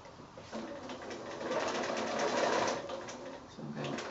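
A sewing machine stitches across the end of a small drawstring bag made from 6-inch quilting squares, its motor whirring close and steady and swelling in speed midway before briefly easing.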